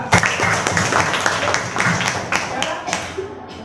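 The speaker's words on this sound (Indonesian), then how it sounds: "Oke, tepuk tangan juga." A classroom group claps hands together, a busy patter of many claps with a few sharper slaps standing out, fairly close and steady for a few seconds.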